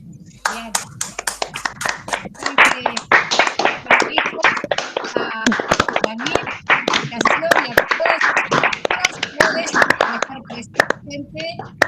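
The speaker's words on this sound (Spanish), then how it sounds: "Le demos un fuerte aplauso a Amelia." Attendees at a conversation event give Amelia a round of applause: a modest group's close, distinct hand claps in an irregular patter, with murmured voices mixed in, building after a short quiet start.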